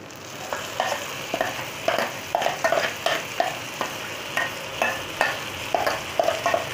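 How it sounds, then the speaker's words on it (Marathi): A tomato, chili and coriander paste for egg tawa masala fries in a pan, with rhythmic utensil scrapes and stirring strokes repeating about every half second over a soft, steady sizzle. "जे आपण टॅमॅटो मिरची कोथिंबीरची पेस्ट करून घेतलेली आहे ती ह्याच्यामध्ये टाकायची आहे आणि ती पण चांगली भाजून घ्यायची आहे."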